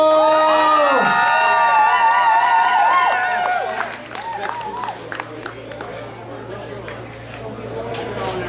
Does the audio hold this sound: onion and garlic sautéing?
no